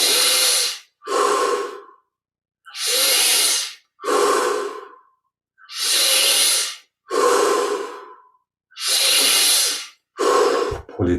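Deep, forceful breathing during Kriya Yoga meditation: about eight long, loud breaths close up, strong inhales alternating with exhales in a steady rhythm, with no talking.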